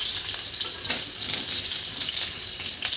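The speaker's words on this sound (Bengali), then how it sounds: "তো এর জন্য আলুগুলো দিয়ে দিচ্ছি তেলের মধ্যে। ভালো মতন নেড়ে চেড়ে আলুগুলো প্রথমে ভেজে নিই।" Potato pieces frying in hot oil for mung dal khichuri, a steady close hiss and crackle that runs without a break.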